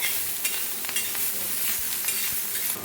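Coriander being stirred into masala rice in a hot pan, a steady sizzle with quick scraping strokes of the spoon close by, and no voices.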